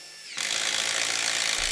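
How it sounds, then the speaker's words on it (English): A Bosch drill fitted with a Nail Strike bit bites into galvanized framing nails, a faint hush giving way abruptly to a loud, steady grinding whine that runs to the end. "we're going to try drilling through galvanized framing nails."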